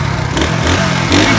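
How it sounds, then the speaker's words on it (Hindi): A motorcycle engine running rough and misfiring, its steady mid-pitched drone broken by uneven stumbles and surges, loud and close with no talking. "हमारी बाइक को पता नहीं क्या मसला बन गया, मिसिंग बहुत ज़्यादा कर रही है"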